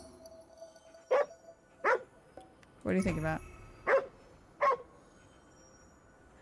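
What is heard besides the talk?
dog barking in video game Ghostwire Tokyo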